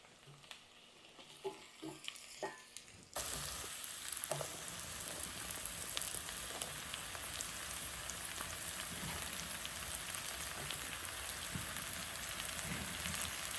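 Mushrooms tipped into a pan of frying onions set off a sudden loud, steady sizzle that continues without a break, after a few quieter clinks and pops at the start.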